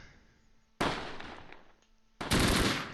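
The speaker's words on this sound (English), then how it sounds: "Oh, we're getting shot from the west." Machine gun fire in the Close Combat World War II game comes in two sharp, loud bursts of rapid shots, the second longer and heavier, over a quiet low hum.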